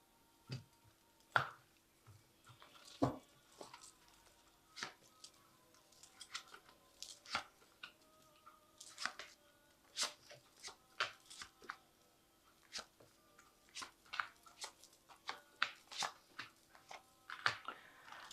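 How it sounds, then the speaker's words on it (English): Tarot cards are drawn from a deck one by one, giving scattered soft snaps, flicks and papery slides at close range, quiet and irregular against near silence. "So I'm just going to draw some cards from this deck."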